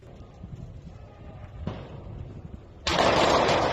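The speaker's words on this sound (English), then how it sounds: "Just some patriotic fireworks." Fireworks going off amid street clashes in Bolivia, a few distant muffled pops and thuds followed by a loud sharp burst that sustains into a crackling roar at the end.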